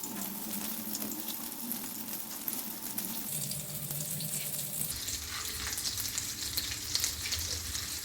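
Breaded basa fish fillets fry in a pan with a steady, fairly loud sizzle that grows brighter and denser partway through, as if more pieces hit the hot oil; no one speaks.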